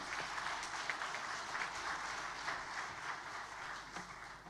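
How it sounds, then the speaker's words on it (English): Steady, dense applause from an audience at the Himalayan Travel Mart 2019, filling the whole stretch at moderate volume without a break, with no talk over it. "So, round of applause, ladies and gentlemen."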